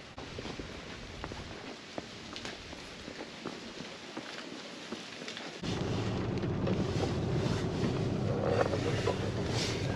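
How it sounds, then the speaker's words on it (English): Wind gusting outdoors among the giant rock formations of Meteora, Greece, on a cold, changeable day, a steady rushing buffeting the microphone that grows louder and heavier partway through, with no talk. "Even if the weather is very changeable and windy and cold like it is today"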